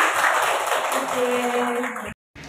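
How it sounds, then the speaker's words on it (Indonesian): An audience at a teachers' module dissemination session applauds in a short burst of dense clapping that stops abruptly. "Boleh tepuk tangan semuanya."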